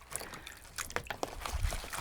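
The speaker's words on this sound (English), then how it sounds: "I'm just gonna rinse the leaves in a little bit of water." Hyacinth stems are rinsed in a little water to clear soil, giving soft trickling and dribbling splashes with a few brighter drips, close and fairly quiet.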